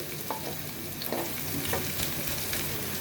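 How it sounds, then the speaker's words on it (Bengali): Dried chilies charred black, garlic and onion fry in a pan with a constant crackling sizzle, broken by a few scraping stirs of a spoon across the pan. "আমি শুকনা মরিচ একদম কালো করে বেজে নিয়েছি, তার উপরে দিয়েছি"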